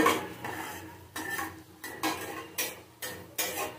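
Moong dal is dry-fried in a pan, stirred with a utensil that scrapes and clinks against the metal in regular strokes about every half second, close and clear, with a faint sizzle underneath and no talking.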